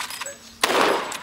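A single sharp Lee Enfield rifle shot cracks out in Arma 3 and decays with a short tail, preceded by a quieter stretch of low background noise.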